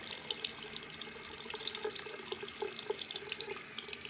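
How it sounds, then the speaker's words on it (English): Clean water runs steadily through the trap of an Ideal boiler with an L2 fault as it is flushed, a continuous close splashing flow with no one speaking. "Just so you can see clean running water."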